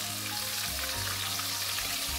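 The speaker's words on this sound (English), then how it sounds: "add the fish pieces slowly. And then there you go. Gently let them fry up for a bit." Fish pieces sizzle in medium-high oil in a pan for a fish curry, giving a close, steady crackling hiss throughout with no voices.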